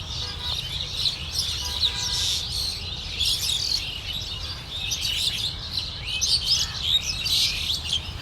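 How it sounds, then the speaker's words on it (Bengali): A dense chorus of birds calls from trees at a green spot in Dhaka, with many overlapping chirps and tweets near and far, steady and lively throughout, and no talking. "পাখি ডাকছে।"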